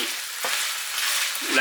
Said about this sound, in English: now it's starting to fry again as all the liquid is boiling off